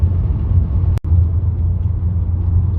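A Chevrolet Lumina SS with a power steering leak drives along the road, making a loud, steady low rumble from the engine and road with a brief dropout near the one-second mark.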